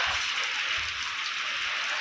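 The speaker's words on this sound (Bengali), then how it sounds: "এইদিকে দেখো বৃষ্টি শুরু হয়ে গেছে, আর হাওয়াও দিচ্ছে" Rain that has just started beneath dark clouds falls with gusting wind, making a steady, dense hiss that fills the two seconds without a break, with soft low rumbles from the wind and no voices.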